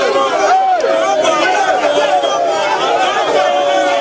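Large crowd of street protesters along a Nigerian expressway, a steady close hubbub of many overlapping voices chattering and calling out.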